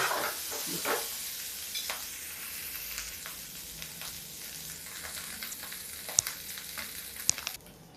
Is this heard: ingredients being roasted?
yes